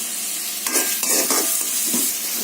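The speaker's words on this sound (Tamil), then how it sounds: "லேசாக கொஞ்சம் உப்பு போட்டுக்கிறோம். நல்லா வதங்கட்டும் வெங்காயம்." Chopped onions sautéing in a pan with a little salt, giving a steady close sizzle of frying with brief stirring scrapes partway through.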